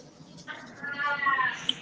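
A cat lets out a drawn-out, wavering meow at close range, rising and sustained for about a second over light background murmur.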